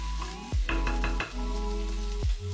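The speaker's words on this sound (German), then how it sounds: "Bratet die Gewürze nur für wenige Sekunden im Öl und löscht dann alles mit gehackten Tomaten ab." Spices sizzle briefly in hot oil for a vegan potato curry, a steady close frying hiss broken by a few sharp clinks and stirring scrapes of a utensil against the pan.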